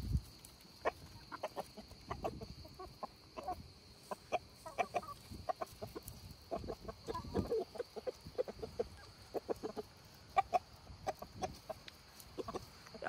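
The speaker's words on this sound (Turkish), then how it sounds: "Nasıl çağırıyor tavukları Oruz?" Backyard chickens in a garden cluck repeatedly at close range in short, uneven bursts, with scattered soft clucks between sharper calls over a steady faint hum.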